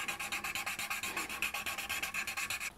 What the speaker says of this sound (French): Et on va poncer.